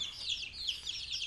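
Young chicks in a small one-metre-wide rearing cage give a soft, continuous flurry of high peeping chirps, faint and close, with no voices.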